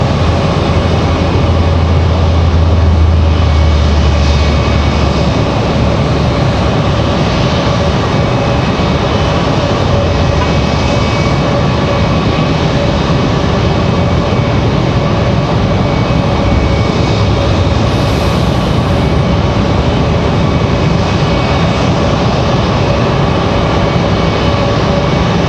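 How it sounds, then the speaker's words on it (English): A Frontier airliner departs Raleigh-Durham airport, its engines giving a steady, loud, continuous roar with a low rumble underneath and no voices over it. "So we get the other Frontier headed back up."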